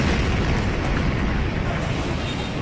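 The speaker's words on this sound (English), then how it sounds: "A massive explosion sent shockwaves tearing through the Lebanese capital." A massive explosion rips through the port area of Beirut, Lebanon, as a loud, sustained roar and deep rumble that holds steady for a few seconds, with no voices.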